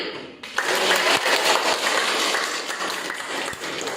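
A classroom of students claps hands together in a sustained burst of dense, loud applause-like clapping that starts abruptly and continues evenly for several seconds.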